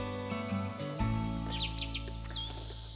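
Bright bird chirps and short rising tweets sound faintly over a sustained low hum and tonal background, several quick calls clustered toward the end.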